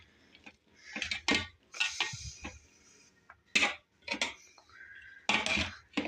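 Hot lemon rice with carrot is stirred in a metal pot, giving irregular close scrapes and clanks of a spoon against the pot, with short bursts and quiet gaps between strokes.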